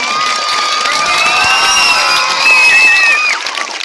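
Crowd of children at a birthday event cheers and shouts loudly and continuously, with high whooping voices rising and falling and a little clapping mixed in.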